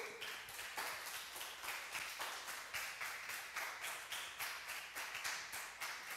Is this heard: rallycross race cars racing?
no